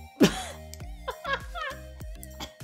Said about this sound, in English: I'm not coughing because it's a bad smell